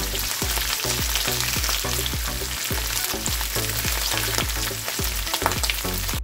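Ghee heating in a hot pan gives a continuous broadband sizzle, steady and close, with a repeating melodic music track playing underneath throughout.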